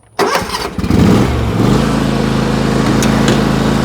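A John Deere X570 riding lawn mower engine cranks briefly and catches, then settles into a loud, steady idle with a throbbing mechanical rumble close by.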